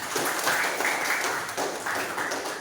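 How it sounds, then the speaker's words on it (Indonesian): A classroom audience claps during a teacher performance assessment session, a fairly loud patter of hands that swells and briefly dips midway before resuming, with faint voices mixed in. "Tepuk tangan buat semuanya."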